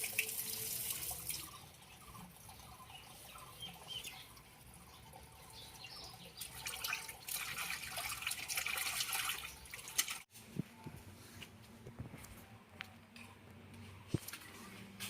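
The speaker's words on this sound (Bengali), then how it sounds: "আমি মাছগুলা ধুয়ে পরিষ্কার করে নিয়ে আসছি" Freshly caught rohu fish are rinsed by hand in water outdoors, with faint continuous splashing, sloshing and trickling and a few sharper splashes near the end.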